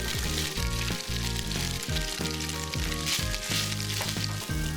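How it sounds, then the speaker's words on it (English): Pork and onions fry in oil in a home kitchen, giving a loud, steady sizzle with crackling bursts and occasional stirring knocks throughout, with no talking. "Adding konting mantika to make the pork really nice and crispy. So we'll be adding the onions."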